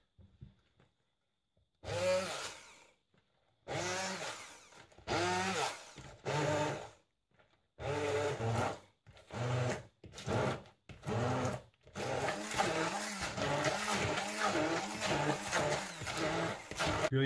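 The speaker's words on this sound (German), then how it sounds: "Dann nehmen wir einen Mixstab und mixen das Ganze durch." Hand blender whirring through wild garlic pesto in olive oil, running in repeated short bursts with brief pauses, then a longer steady blend at the end, close and fairly loud.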